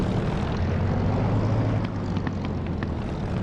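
Aircraft in the DCS flight simulator coming in to land, a steady low engine drone with a constant hum, close and even throughout, with faint clicks near the end and no talk.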